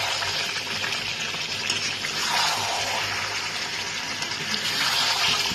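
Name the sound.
hot water poured into chicken curry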